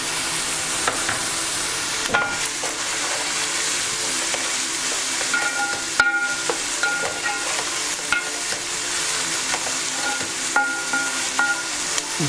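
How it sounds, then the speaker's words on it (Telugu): Onions frying in oil until brown for Andhra onion vadas and chicken curry, a steady close sizzle with periodic stirring scrapes and clinks throughout, no voices. "ఉల్లిపాయలు బ్రౌన్ కలర్ వచ్చే వరకు వేపాలి"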